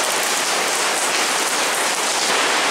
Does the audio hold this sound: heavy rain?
yes